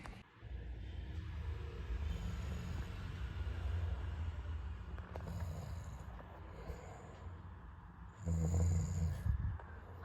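A person snoring at night in a quiet home, with low, rough snores and breathing filling the room and a heavier, louder snort close to the end.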